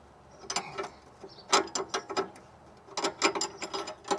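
A ratcheting socket wrench loosens the bottom nut of a car's sway bar link, giving close, crisp bursts of rapid clicking that stop and restart several times across the stretch.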